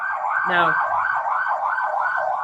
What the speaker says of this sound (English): There's one of those ambulances.